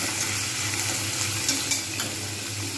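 Boiled potatoes, cut into thin strips, sizzle and fry in a pan alongside fish. The steady close-up crackle is joined by a few stirring scrapes, with no voices.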